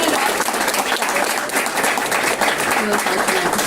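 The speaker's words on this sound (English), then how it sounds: "another round of applause" A lecture audience claps loudly and steadily in sustained applause, a dense wash of clapping with a few voices mixed in.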